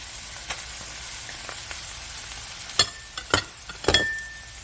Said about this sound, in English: once your meat is cooked through, you want to stir in your spinach and your brown rice